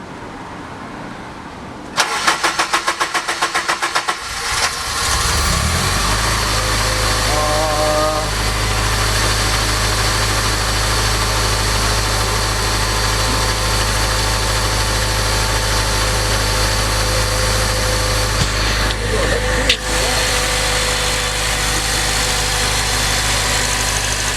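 Acura RSX Type-S with a K-Tuned fuel rail cranks and catches after a few rapid starter clicks, then settles into a loud, steady idle that runs close and continuous with a deep rumble throughout.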